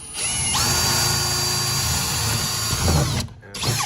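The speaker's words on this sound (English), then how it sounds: "A little skinny drill bit, start a little bit away from the stud" A power drill with a skinny bit bores a hole through a garage wall, the motor whining loud and steady before rising and briefly stopping, then restarting near the end.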